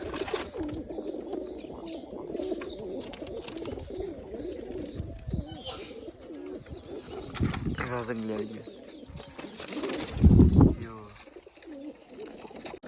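Wild pigeon chicks coo indoors near a window, soft low calls blending into nearby conversation that runs throughout, with a louder burst of cooing or fluttering near the end.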